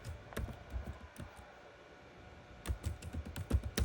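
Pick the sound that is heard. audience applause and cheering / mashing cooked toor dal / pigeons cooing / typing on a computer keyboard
typing on a computer keyboard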